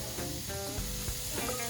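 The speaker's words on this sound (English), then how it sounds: "Immediately start hearing that sizzle over medium-high heat." Strips of pork sizzle in a hot pan over medium-high heat, a close, steady crackling hiss with small pops and spits and no voices.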